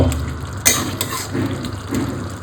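A pan of mocha ghonto, a banana flower curry finished with ghee, being stirred close up. Soft scraping and wet shuffling come with a few light clinks of the spoon against the pan, over a low sizzle.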